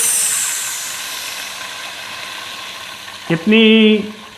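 Water is added to a hot pot of bagara rice with chicken cubes and hits it with a sudden loud sizzle and hiss near the end, after a quieter kitchen hum and a brief spoken word.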